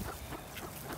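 Geese honking and quacking close by during feeding, short overlapping calls in a noisy, busy flock.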